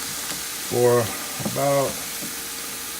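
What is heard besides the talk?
onions, chili peppers and garlic sautéing in olive oil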